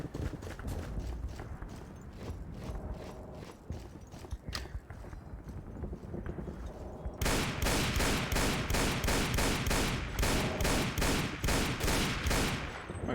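Machine gun fire in a Source engine multiplayer shooter, a fast rhythmic stream of shots that starts muffled, then bursts louder and sharper into steady rapid rattling.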